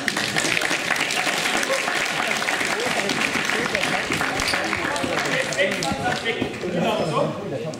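Sustained applause and clapping from a crowd at a parkour and freerunning jam in Linz, dense and steady throughout with voices mixed in.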